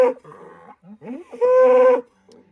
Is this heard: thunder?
no